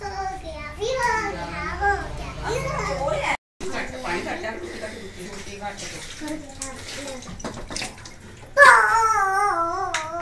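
Water pours while a water cooler is filled after being cleaned with chemicals in a home, the steady rush running under a child's chatter and an adult's talk, growing louder near the end.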